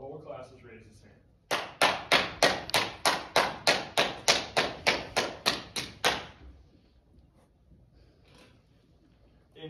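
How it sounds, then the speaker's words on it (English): A teacher claps in a classroom, a rapid run of about fifteen sharp, evenly spaced claps that come close and loud, with quieter room sounds and faint voices before and after. "I'm gonna start clapping until the whole class is raised its hand"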